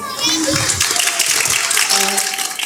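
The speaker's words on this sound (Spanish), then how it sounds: "Un fuerte aplauso para ella, lo ha hecho muy bien" Classroom applause after a student's presentation, a steady dense clatter of many hands filling the whole stretch, with children's voices mixed in.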